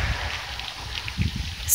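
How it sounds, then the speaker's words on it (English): Rain falling outdoors during a thunderstorm, a soft continuous hiss of drops with faint low rumbling and a few slightly louder patches, heard alone at moderate level. "It's like raining."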